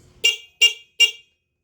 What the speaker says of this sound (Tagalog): Busina ulit.